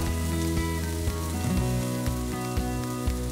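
Peeled shrimp and squid rings sizzle and crackle steadily in a frying pan, a dense close-up hiss with soft rhythmic thumps in the background.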